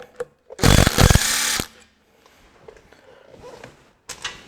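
A small handheld power tool spins up in one loud, close burst of about a second to back out bolts, then a quieter stretch of faint handling noise and a short second whir at the end.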